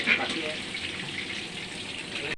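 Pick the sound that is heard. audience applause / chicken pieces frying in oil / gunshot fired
chicken pieces frying in oil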